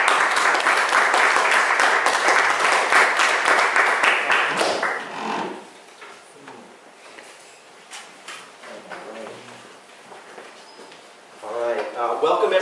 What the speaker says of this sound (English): please welcome Stephen with a big round of applause.